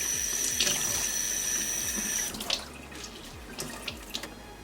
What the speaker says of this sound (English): Just make sure you rinse it out really good so there's no leftover soap.